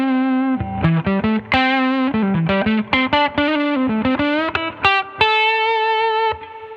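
Electric guitar driven through an ACRC Oz Noy drive pedal into a Fender '68 Custom Princeton Reverb amp plays a close, loud melodic phrase of sustained and quickly picked notes with a smooth, moderate overdrive and a little reverb.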